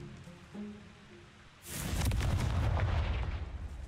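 The Confringo spell in the video game Hogwarts Legacy sets off an explosion: a quiet stretch with faint game tones, then a sudden booming, crackling burst that rumbles on loudly to the end.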